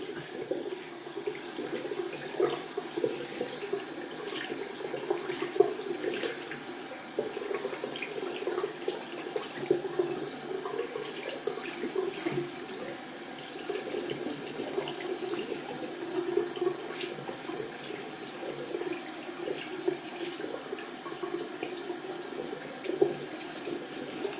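Running tap water splashes into a sink while a wet shaving brush is rinsed under it, a steady close gurgling stream with small irregular splashes throughout, no voices.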